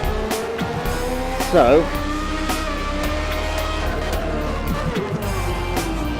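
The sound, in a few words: F1 race car engine on track in Assetto Corsa video game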